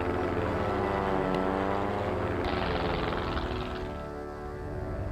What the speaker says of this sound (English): All right, so we're fighting a biplane.